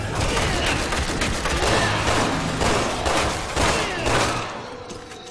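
Continuous heavy gunfire in the video game Resident Evil 6, with loud, rapid, overlapping shots sustained throughout and only faint traces of speech beneath.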